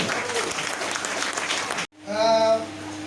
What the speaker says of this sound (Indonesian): Tepuk tangan dulu buat dia